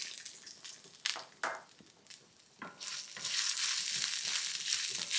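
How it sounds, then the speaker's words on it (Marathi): Carrots sautéing in a pan with cumin, green chili and ginger in low oil, a steady sizzle and frying hiss with stirring scrapes and clatters, growing louder and more continuous in the second half. "पहिले गाजर छान परतून घ्यायचं"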